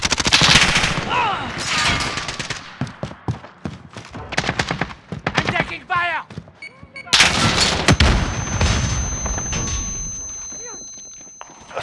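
Bursts of automatic rifle fire, single shots and explosions in a Call of Duty Modern Warfare multiplayer match on Xbox Series X, loud and close with dense clusters separated by brief lulls, with in-game voice callouts between.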